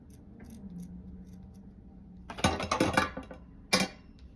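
Scissors snip at Christmas decor in a few quick bursts of sharp, close cuts, with a final separate snip after a short pause.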